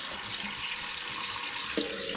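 Cold water runs from an outdoor tap into a container, a steady close hiss and splash holding at even loudness, with a faint knock near the end.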